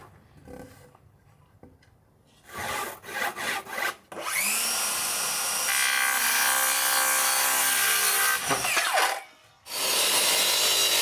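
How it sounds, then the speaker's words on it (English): Power sanding of a wood piece at a home workstation during kitchen tile work, a loud steady broadband whir running several seconds after brief scraping, cutting out briefly and resuming. "sand it up, and it'll be just fine"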